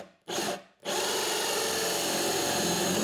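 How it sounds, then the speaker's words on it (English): Power drill boring through a wooden router table top: two short bursts of the motor revving, then a steady, loud grinding whir as the bit chews through the wood, with no talking. "I'm going to drill until that tip just barely pokes through on the bottom side"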